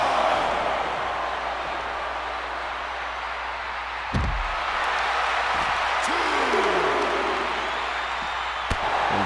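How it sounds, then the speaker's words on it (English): A wrestling crowd at a pay-per-view pre-show event boos loudly and steadily as a broad sustained roar, with a few sharp thuds and knocks over it. "the adoration from the crowd is a heavy boo"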